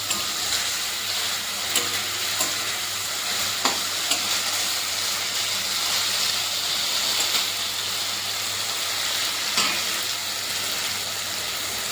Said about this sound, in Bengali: দশ মিনিট মতো তরকারিটাকে নাড়াচাড়া করার পর মাছগুলোকে যোগ করে দিলাম